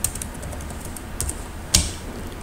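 Computer keyboard keys pressed for a shortcut, a few quiet close clicks with one sharper tap near the end.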